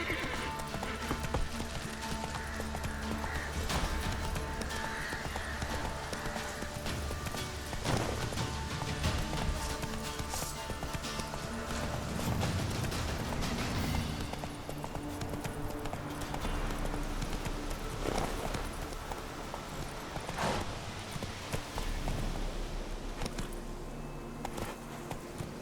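A horse gallops along in The Witcher 3: Wild Hunt with steady, rhythmic clip-clop hoofbeats and occasional whinnies, all set against layered game music and ambience.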